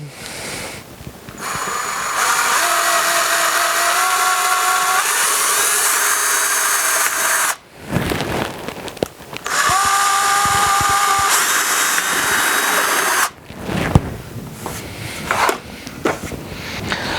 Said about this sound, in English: drill through this pillar that you don't let the drill kick up or down